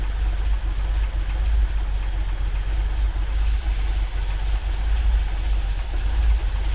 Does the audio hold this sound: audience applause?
no